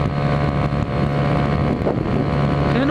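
A Honda Hornet motorcycle rides at speed, its engine a steady loud drone mixed with heavy wind rush across the microphone, continuous for a few seconds with no talking.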